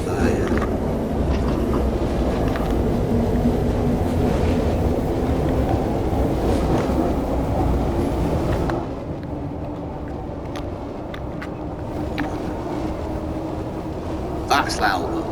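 A train in Train Sim World 3 rumbles steadily at moderate loudness, with a continuous low mechanical drone that eases slightly partway through, and a voice talks over it.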